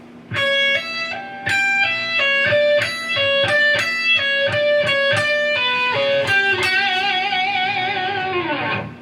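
Distorted electric guitar plays a lead line of quick bent notes, ending in a long sustained note with wide, wild 80s-style vibrato, loud and alone.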